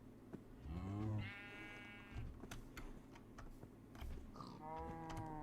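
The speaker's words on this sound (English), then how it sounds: "it looks like a sheep is joining us" Sheep bleating in Minecraft, several wavering bleats, one near and loud early, then another pair later, over soft clicking and game background sounds with no talk.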